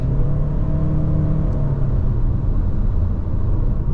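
A 2025 Chery Tiggo 4 Pro with a 1.5-litre turbo engine accelerates, heard from inside the cabin as a loud, steady low rumble with a rising engine drone.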